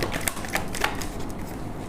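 Tarot cards drawn and laid down during a reading, a few crisp papery flicks and taps close by over a faint steady background hiss.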